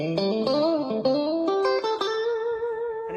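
A Line 6 JTV-69 Variax modeling a Stratocaster in the middle pickup position plays a short clean melodic phrase through a Blackstar HT Club 40 amplifier, single notes ringing with a light chorus-like shimmer and sustain.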